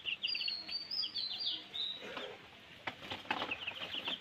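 High, thin chirps come from broiler chickens kept in a cage, repeating quickly and faintly against a soft background, with a few clicks and brief rustles.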